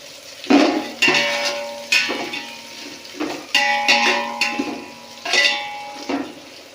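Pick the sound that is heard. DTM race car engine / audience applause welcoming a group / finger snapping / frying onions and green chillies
frying onions and green chillies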